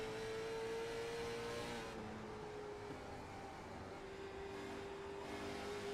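Late model race car heard onboard at Five Flags Speedway in Pensacola, Florida, on an old, hot, loose track: a steady, loud engine drone held throughout, the pitch sagging slightly as the driver eases off.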